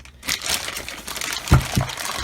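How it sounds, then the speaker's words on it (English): Plastic bag crinkling and rustling as a differential is unboxed from polystyrene packing, with steady close crackling throughout and two louder crunches near the end. "We've got a plastic bag."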